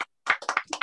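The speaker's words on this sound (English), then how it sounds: "Everyone, give Norman a big clap." A small live audience breaks into a quick burst of clapping after a short pause, the claps dense and close, with no voices heard.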